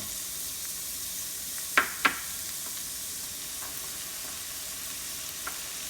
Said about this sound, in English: So let's put in our onion.